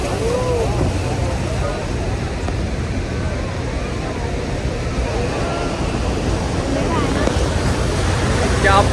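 Heavy rushing water at Niagara Falls, a loud, steady roar of spray and wind buffeting the microphone, with excited voices talking faintly over the din.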